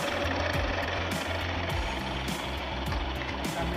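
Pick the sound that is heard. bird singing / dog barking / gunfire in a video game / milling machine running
milling machine running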